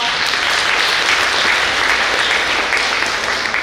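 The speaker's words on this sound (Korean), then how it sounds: "구 의원 여러분과 정당인 분들 위해서 큰 박수 부탁드립니다." A forum audience at the 2026 Suseong International Biennale pre-biennale applauds in a steady, dense, loud wash that fills the room for the whole stretch, with no break.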